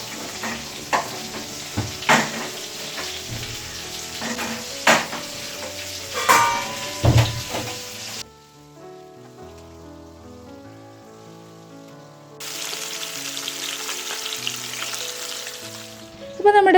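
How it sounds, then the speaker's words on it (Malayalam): Fish sizzles steadily in a pan for several seconds with occasional sharp clatters, a quieter stretch, then the frying noise returns close up. "നമ്മുടെ മീൻ ഇപ്പോൾ ഒരു വശം ഫ്രൈ ആയിട്ടുണ്ട് കേട്ടോ"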